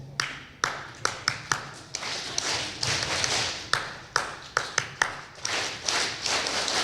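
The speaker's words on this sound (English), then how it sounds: "What I'm going to do is clap out a rhythm. I want you guys to repeat after me." A leader claps out a short rhythm and a group of students claps it back, sharp distinct claps in uneven patterns followed by fuller, looser group clapping, repeated in call-and-response fashion.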